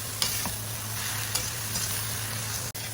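Cabbage cooks in a hot pan with a loud, steady sizzle and frying hiss, broken by a few soft stirring clicks, close and continuous with no voices.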